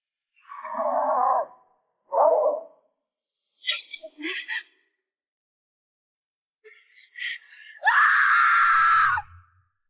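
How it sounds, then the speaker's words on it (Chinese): A woman screams in a horror film, with several separate wailing cries and breathy sounds between silent gaps, ending in one long, loud shriek. "突然一个女人大喊大叫地跑了过来"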